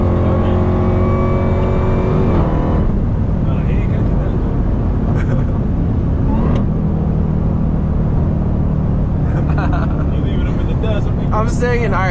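An Audi R8 and a Dodge Durango SRT Hellcat race on a highway: a loud, close engine drone with a rising rev early on, then continuous road and wind roar with quick whooshes as cars pass.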